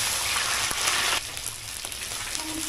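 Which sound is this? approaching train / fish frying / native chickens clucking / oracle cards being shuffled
fish frying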